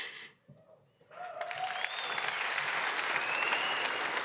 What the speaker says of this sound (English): I was going to be pissed if they didn't applaud for that one